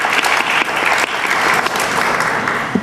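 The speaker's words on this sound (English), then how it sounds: "we would have a round of applause for everyone" Audience applause after a panel of university students and faculty: a dense, loud burst of many hands clapping at once, sustained evenly for a few seconds in a hall.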